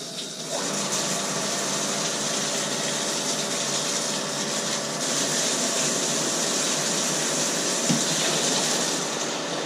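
Water rushes steadily through an Arrow Valves solenoid strainer basket after its valve is reopened, a constant loud hiss of flow filling the line with no talk.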